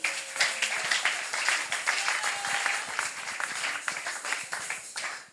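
A church congregation bursts into sustained applause during a service, dense clapping from many hands rising and falling over several seconds with a few voices mixed in.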